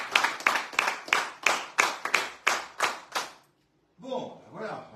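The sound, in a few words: audience applause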